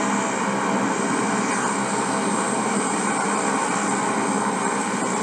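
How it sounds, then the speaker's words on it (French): Combat helicopters escorting a presidential plane near an airport in Congo produce a steady, loud, continuous engine and rotor roar with no distinct changes and no talking. "C'est ces mêmes hélicoptères-là qui décollent de l'aéroport de Lombo"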